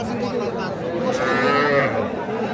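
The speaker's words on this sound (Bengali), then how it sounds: "এই পাশে কিন্তু আমরা বেশ কিছু বকনা বাছুর দেখতেছি" Young heifer calves moo at a cattle market in Aftabganj, a low drawn-out call rising over a steady crowd murmur and background chatter.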